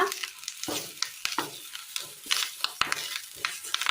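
Curry leaves and turmeric powder fry in a pan for a Kerala coconut-milk dish, giving a steady close sizzle broken by sharp crackles and pops, with no talking.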